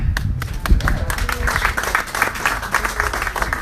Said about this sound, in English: And while you're clapping